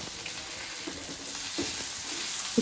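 Mushrooms, onion and tomato sauté in a pan with a steady close sizzle, punctuated by faint stirring scrapes.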